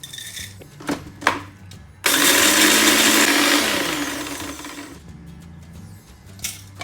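A blender grinds coconut chips for energy balls: a few light clicks and taps, then a loud, steady whirring roar for about three seconds that gradually eases before cutting off, followed by more handling clatter.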